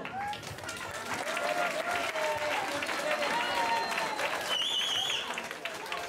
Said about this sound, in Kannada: ಮತ್ತೊಂದು ದೊಡ್ಡ ಚಪ್ಪಾಳೆ ಎಲ್ಲರಿಗೂ.